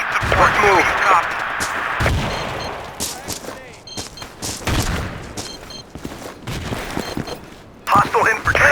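Frag grenade blast and rifle gunfire in Battlefield 2, several sharp shots and booms scattered across the stretch, with radio voice callouts between them.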